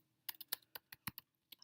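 Quiet typing on a computer keyboard in an art room: a quick, irregular run of about a dozen crisp key clicks, close but soft, with no voices.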